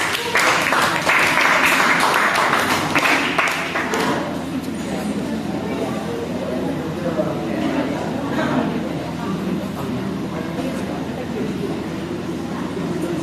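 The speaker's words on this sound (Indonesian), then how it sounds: "Beri tepuk tangan untuk kelompok 4." Applause from a classroom audience for the fourth student group, a burst of clapping loudest in the first few seconds and then thinning into scattered claps under murmuring voices and room noise.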